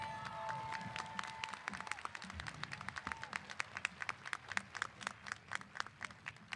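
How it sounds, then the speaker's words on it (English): Graduation audience at the Niles West 2024 commencement clapping, a sparse round of individual claps that grows denser and more rhythmic, heard from a distance in a large hall. "One last round of applause for Brianna as she exits"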